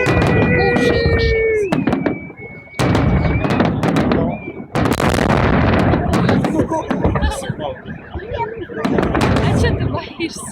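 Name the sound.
fireworks salute on Victory Day in Voronezh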